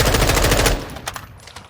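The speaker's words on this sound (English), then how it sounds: "We're going to fire 2 clips right at the bottom here and fire." An automatic weapon fired with an iron sight in Call of Duty MW2 lets off a fast, loud, steady burst that stops abruptly, followed by a few scattered, fainter shots and a short decaying tail.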